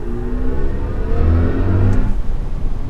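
A 2024 BMW i5 M60 xDrive electric sedan accelerates hard, a steady whirring drive hum rising under road and wind noise from inside the cabin, with no talking.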